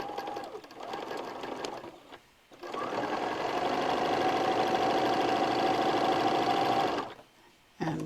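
A sewing machine stitching corner to corner across white quilt squares, starting with a brief burst, pausing, then running steadily for several seconds with a buzzing motor hum before stopping and restarting briefly.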